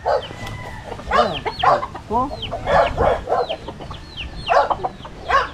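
Chicks and chickens cluck and cheep close by at a farm hut, with repeated bursts of clucking and chirping calls in an irregular rhythm over faint background noise.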